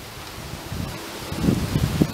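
Wind gusts through trees, a steady rustling of leaves with low rumbling buffeting that swells toward the end, heard outdoors with no talking.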